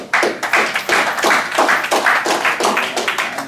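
An audience at a youth success program claps in a regular, evenly spaced rhythm, close and loud, with little talking over it.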